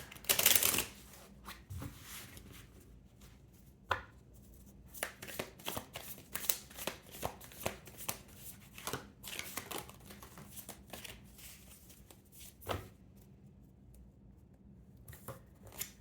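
Oracle and tarot cards being shuffled by hand, a crisp riffle burst at the start followed by scattered soft flicks, taps and slides of cards, close and fairly quiet, with no talking.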